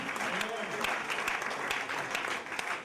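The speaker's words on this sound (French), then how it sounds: "You have clapped for me." Applause from a church congregation at a French-English revival meeting, a steady dense patter of many hands filling the room, with voices rising faintly through it.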